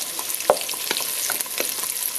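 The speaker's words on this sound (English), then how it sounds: "we just added the carrots. We're going to give these a stir" Carrots being stirred into a hot, sizzling mix of bacon, onion and celery for potato soup, with a steady fry hiss broken by several close spoon scrapes and knocks, no talking.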